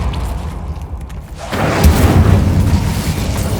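Incendio fire spell cast in Hogwarts Legacy: a muffled pause, then a deep booming burst of flame that swells and rumbles on steadily, loud and close.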